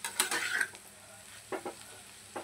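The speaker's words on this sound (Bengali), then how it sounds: "আলু সিদ্ধ হয়ে গেছে, ভাজা হয়ে গেছে আলু," Potatoes frying in a kadai as a spatula stirs them, with short bursts of scraping and sizzle at the start and brief stirring strokes later, close up, with no voices.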